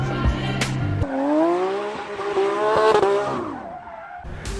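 A 2019 Lamborghini Aventador SVJ spins donuts, its tires squealing in long rising and falling whines over a revving engine, loud and close.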